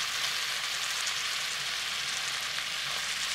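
Canned mushrooms and onions pan frying, giving a steady, even hiss of sizzling oil that holds unchanged throughout, moderately quiet and close, with no talking.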